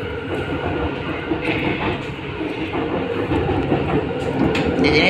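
Inside a driverless LRT train on the Kelana Jaya Line in Kuala Lumpur, a steady rumble of wheels and motors carries on throughout, loud and close, with faint rail clatter and a light squeal near the end.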